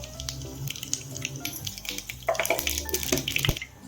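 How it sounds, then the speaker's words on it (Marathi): Half a spoon of mustard seeds crackles in hot oil in a kadhai for palak dal, with scattered sharp pops and spits over a wet, fizzing sizzle. "मोहरी तडतडल्यानंतर जिरा टाकायचा आहे"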